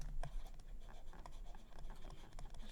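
Pen writing out a maths solution for integration by substitution, quiet scratchy strokes in short repeated bursts, faint and close.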